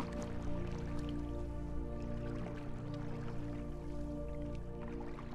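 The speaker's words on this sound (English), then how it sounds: "the gentle lapping of the water has become its own" Soft, continuous trickling and dripping of water with small irregular splashes, steady and close, layered over a low sustained tonal hum, with no speech.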